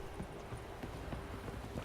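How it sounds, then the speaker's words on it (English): Steady clip-clop of horse hooves in a quick, even rhythm over a constant background hum, with no voices, from a horse ridden across a bridge in the video game The Witcher 3. "I don't like riding the horse across the bridge"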